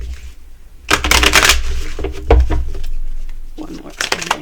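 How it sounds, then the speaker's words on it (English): A tarot card deck is shuffled by hand in short, crisp bursts of riffling and flapping cards, with soft thumps of handling between them, heard up close. "So let's shuffle the deck again."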